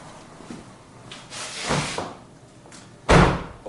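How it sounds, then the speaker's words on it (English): Car doors on a car with an alarm problem are opened and shut, soft latch clicks and rustles building to a muffled thud, then one loud, close slam near the end. "when I open these doors, everything is fine"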